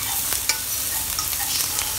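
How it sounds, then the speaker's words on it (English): Oil sizzles and crackles steadily in a pan as garlic fries over medium-low heat, with soft intermittent stirring clicks close up. "I'm frying this over medium-low heat because I want the fragrance to be out"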